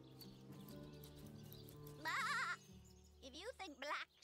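Several wavering video game sheep bleats ring out, a long one followed by shorter quick cries, over a low background hum.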